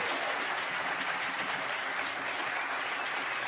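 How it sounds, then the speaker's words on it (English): Audience applause after a live musical performance of American fruit with African roots at SUNY Oswego, a steady, moderately loud wash of many hands clapping that holds evenly throughout without voices. "So let's give these guys and women an incredible round of applause."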